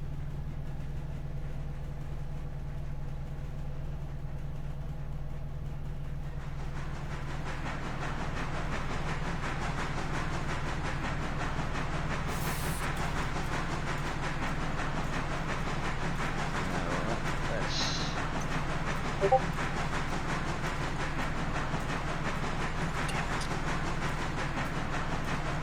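A train rumbles along steadily in the video game Railroader, a low continuous rolling drone that swells after a quieter start, with faint clicks and a brief high squeal over it, with no talking.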